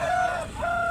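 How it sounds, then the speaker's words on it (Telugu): A rooster at a poultry market sounds a short, sharp call, close and loud, its tone dipping in the middle then rising again over low background murmur. "కోడి అయితే చాలా టెంపర్ మీద ఉంది"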